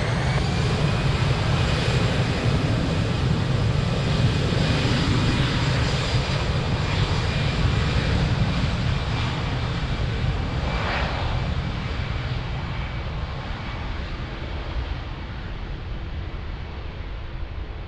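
An airliner taking off at Lisbon Airport, a loud, continuous jet engine roar that slowly fades as the aircraft pulls away, with no talking.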